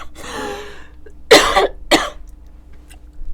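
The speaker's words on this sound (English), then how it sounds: "Pardon this cough." A single adult cough in a quiet indoor setting, two sharp close bursts about half a second apart, following a stretch of speech-like voicing.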